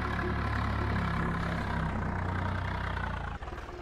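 A modified tractor engine idles in the video game Farming Simulator 22: a steady, loud, low rumbling drone that holds evenly before a brief dip and slight unevenness near the end, with no talk.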